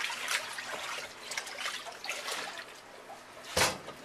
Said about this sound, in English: now I'm working the paddle so I can get it into a smooth taffy texture